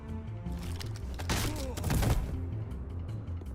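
A single gunshot in a Batman video game, heard as a broad burst that swells around the middle and decays amid game music and ambient sound.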